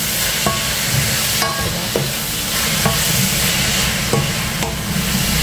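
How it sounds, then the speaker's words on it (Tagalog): Vegetables sautéing in a pan with a steady sizzle and repeated scraping, clinking stirs of a utensil against the pan at irregular intervals, close and continuous. "Gisa-gisa lang natin ito."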